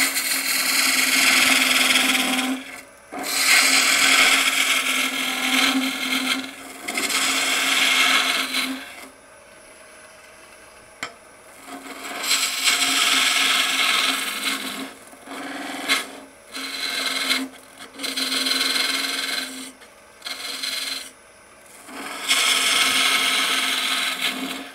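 Gouge shaving a wooden funnel on a spinning wood lathe with peeling cuts, a steady loud rasping scrape in long passes broken by brief pauses, with the lathe humming underneath.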